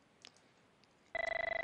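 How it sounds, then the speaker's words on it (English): An incoming call rings on a telephone: after a quiet moment, a steady electronic ring tone starts abruptly, pulsing rapidly and evenly, loud and close. "I have my ringing call."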